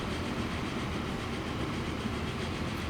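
Train rolling past in the transport simulation game Transport Fever 2, a continuous dense rumble and rattle of wagons, steady and loud throughout with no talking.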